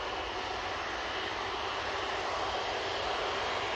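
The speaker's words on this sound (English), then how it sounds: "beautiful fluff on those wings from that British Airways. That was one of their A320-200s, of course." A British Airways Airbus A320-200 at Manchester Airport gives off a continuous broadband roar of jet engines, steady and moderately distant, with no other sounds.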